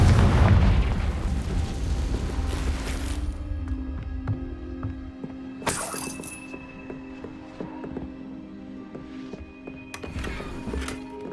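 A Confringo spell blast in the Hogwarts Legacy video game: a loud booming explosion with a heavy low rumble at the start that decays over several seconds, followed by softer thuds and bright magical bursts.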